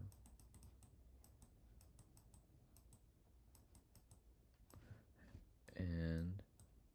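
Keys clacking on a computer keyboard in quick irregular bursts, fairly close, with a short spoken interruption near the end.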